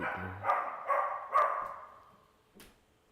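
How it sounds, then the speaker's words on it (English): A dog barks three times in quick succession, each bark trailing off, followed by a fainter fourth bark after a pause; quiet otherwise. "There goes that loud dog of y'all's."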